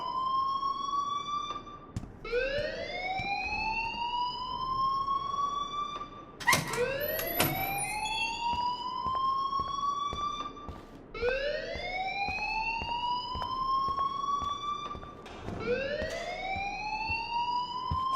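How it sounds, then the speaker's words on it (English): Repeating electronic alarm in the video game Life Is Strange, a rising siren-like whoop that sweeps upward about every four seconds, loud and steady with no talk over it. "please turn off that alarm since that's your job"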